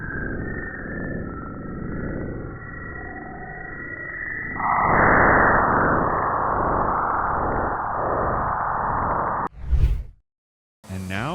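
Spacecraft recording of a bow shock, a steady eerie wavering hum that surges abruptly into a denser, louder roar partway through, then a short sharp pulse near the end followed by silence and a brief return.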